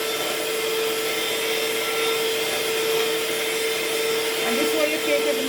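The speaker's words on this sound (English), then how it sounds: "I'm just gonna give it one more whisk and make it you can never get too smooth" Lemon blueberry bread batter whisked with an electric mixer, a steady loud motor whine running throughout with a brief change in tone near the end.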